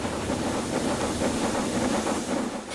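A train in the railway simulation game Transport Fever 2 rolls along steadily, a continuous loud rumble with hissing wash and no talk over it.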